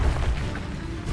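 Incendio fire spell cast in Hogwarts Legacy, a short low whooshing burst of flame with a rumbling boom, heavy and close, lasting about a second.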